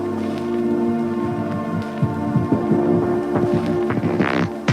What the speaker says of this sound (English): I'm gonna add like a bunch of reverb. Let's also increase the decay like gradually like this.